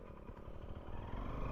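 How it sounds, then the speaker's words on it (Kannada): A motorcycle engine rumbles nearby on the Charmadi Ghat road in the rain, its low throbbing growing slightly louder as it goes by. "ಆ ಬೈಕ್ ಒಂದು ಕ್ರೇಜಿ ಬರ್ತಿದ್ದ"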